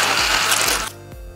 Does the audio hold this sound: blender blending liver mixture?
yes